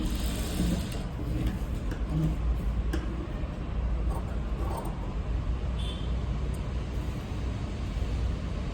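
Sewing machine stitching a blouse seam, a steady close mechanical whir running unbroken throughout with faint ticks on top.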